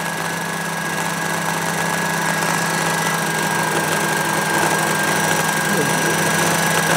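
A Sherline milling machine squares off the face of a block in a home workshop, a steady motor whine with a constant cutting hum running evenly and close throughout.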